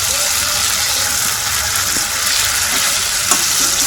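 Fish frying in a spice masala in a pan, a loud, dense, continuous sizzle heard up close for a few seconds, with faint stirring and no speech.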